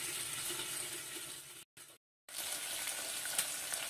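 Ingredients for a tomato chutney frying in a pan, a steady close hiss and sizzle broken by a brief silence midway, with no voices.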